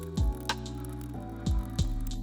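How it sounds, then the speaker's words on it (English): Boiled potatoes being mashed with a fork for homemade gnocchi, giving soft squishy presses with sharp fork clicks against the bowl, four distinct strokes close up and moderately loud. "I'm just going to use a fork here and we're going to mash these up"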